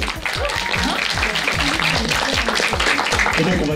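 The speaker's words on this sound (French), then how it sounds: "On peut applaudir." An audience at a Miraculous Ladybug premiere event applauds with a dense wash of clapping that carries on steadily, while a voice speaks in French over it.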